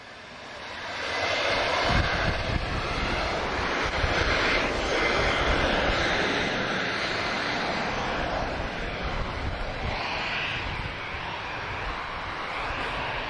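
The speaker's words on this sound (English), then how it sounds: "We also have a 757 of DHL, who taxied out of nowhere." A DHL Boeing 757 taxis at Lisbon Airport, its jet engines giving a broad steady roar with a rising whine, heard from a distance and holding level throughout without voices.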